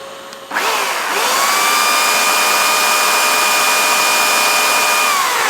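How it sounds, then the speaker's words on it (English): A loud electric chainsaw powered by an EcoFlow Delta Pro battery starts up and runs steadily at a high, whining pitch, holding constant without pause. "Electric chainsaw."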